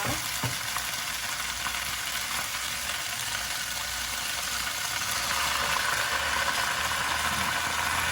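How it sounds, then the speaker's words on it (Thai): Chinese (Taiwanese) kale is being stir-fried with oyster sauce and a little water over high heat. A loud, continuous close sizzle and hiss holds steady throughout, with an occasional scrape of stirring. "ผัดตลบเลยค่ะ ใช้เวลาผัดไม่นานนะคะ ว่าเราใช้ไฟแรงอยู่แล้วค่ะ"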